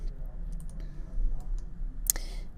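A single sharp right-click of a computer mouse while a poster is edited in InDesign, one crisp tap near the end over a quiet background hum.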